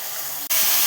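Sliced eggplant sizzles in hot oil with mustard seeds, chopped shallots, green chilies and tomato, a steady close frying hiss with a brief dip partway through.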